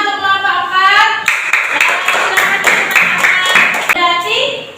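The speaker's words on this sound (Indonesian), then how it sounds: "Tepuk tangan untuk kelompok 4." Classroom students clapping for a presenting group, a burst of rhythmic hand claps between stretches of youthful voices, close and fairly loud.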